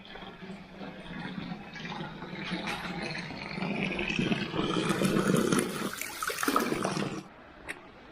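Water running steadily from a roadside tap on the road up out of Courmayeur on the Tour du Mont Blanc, a broad continuous splashing that builds and grows louder before cutting off abruptly near the end.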